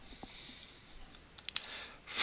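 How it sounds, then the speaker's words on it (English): Typing keywords on a computer keyboard: a few faint, close clicks, then a quick cluster of key taps and a louder rustle at the end. "So I'm going to type in keywords"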